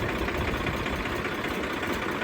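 A Swaraj 855 tractor, previously used for trolley hauling, idles nearby with a steady, even diesel drone and faint rhythmic knock, unbroken and without talking.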